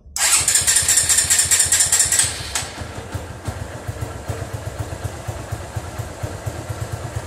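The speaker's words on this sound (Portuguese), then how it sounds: "Vou ligar a moto pra você ver aí, ó. E vou acelerar." A motorcycle with a battery-charging fault cranks to life with a loud burst, then settles into a rapid, steady chugging idle close by.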